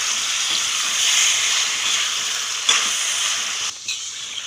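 Chicken sizzles with masala in a hot pan for korma, a steady close hiss of frying with a few soft scraping stirs near the end.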